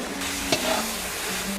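Onion hits hot fat in a pan of kuyrdak made with fresh young lamb offal, giving a soft, steady sizzle with a brief stirring scrape near the start.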